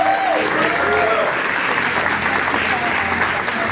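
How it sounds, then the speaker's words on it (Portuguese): Loud congregational applause in a church service, a dense, continuous roar of clapping with some faint voices mixed in. "Você pode aplaudir Jesus bem forte?"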